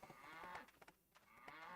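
Cows mooing in Albion Online, a couple of low, drawn-out calls over quiet farm ambience, fairly faint and with no voice over them.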